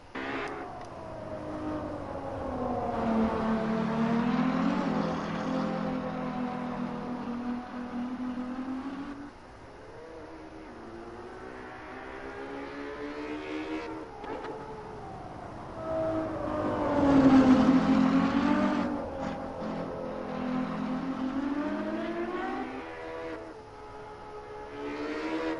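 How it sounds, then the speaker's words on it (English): A Ferrari heard from outside in the Assetto Corsa racing game, its engine note rising and falling through repeated revving sweeps and gear changes, loud and continuous with no talking. "let's listen to this, what this car sounds like from the outside"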